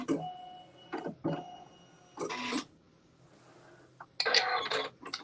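A sewing machine runs quilting stitches with white embroidery thread in four short bursts, quiet and separated by pauses.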